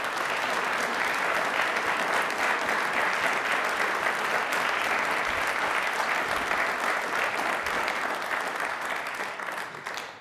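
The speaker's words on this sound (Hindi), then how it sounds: "भारतीयों के लिए तालियां जोरों से, शोरों से होनी चाहिए प्लीज" A quiz show audience gives a long, loud, even round of applause for Indian talent, dense clapping that holds steady for about ten seconds before trailing off.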